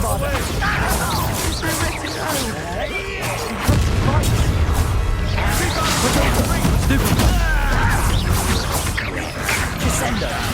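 Bombarda blasting spells in the Hogwarts Legacy video game burst repeatedly amid steady combat noise, with a heavy thump midway and more booms layered over clattering game sounds and voices.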